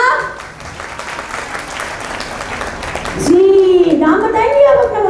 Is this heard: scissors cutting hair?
no